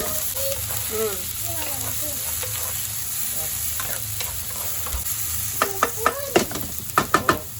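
Ginger and onions fry in oil for pork kinilaw with daikon, a steady sizzle under scraping stirring, with a run of sharp clacks from a utensil against the pan near the end and faint voices in the background.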